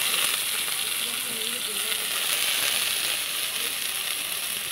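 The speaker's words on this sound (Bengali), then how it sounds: "একটু স্বাদ অনুসারে লবণ হলুদ দিয়ে আলুটাকে ভালো মতন ভাজা করবে" Cut potatoes with salt and turmeric fry in a pan with a steady, even sizzling hiss throughout, while a voice speaks faintly underneath.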